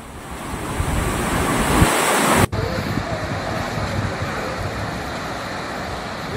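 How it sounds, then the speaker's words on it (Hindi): Water rushing out of four opened dam gates in Rajasthan after heavy rain, a loud steady broadband roar mixed with wind buffeting the microphone, briefly cut at one point and then continuing. "बांध के 4 गेट बताया जा रहा है खोले गए हैं और इसी के साथ काफी वेग से वहां पर पानी जो है वो निकलता हुआ बांध से नजर आ रहा है"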